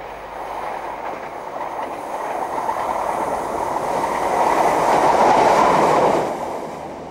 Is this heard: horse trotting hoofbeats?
no